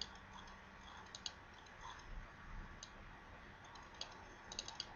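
Quiet, sharp computer mouse button clicks come singly and in small clusters over faint background hiss, with no talk.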